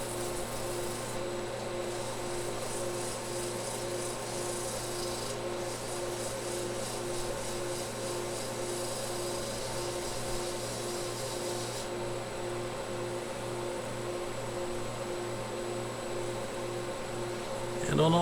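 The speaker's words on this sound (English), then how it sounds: "And now, a little sanding." Sanding a segmented wooden vessel on a lathe, a steady humming whir with a faint abrasive hiss that holds level throughout, with a louder bump at the very end.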